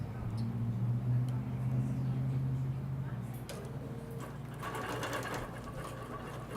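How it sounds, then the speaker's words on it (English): A Bernina longarm Qmatic quilting machine stitches nearby with a steady mechanical hum, then shifts to a faster, rattling needle rhythm toward the end, with no talking. "I'm going to let it sew a little bit before we cut our thread on purpose."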